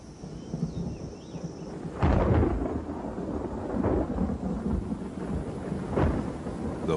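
A thunderstorm rumbles loudly, with deep rolling thunder swelling in several waves over a steady wash of rain and wind.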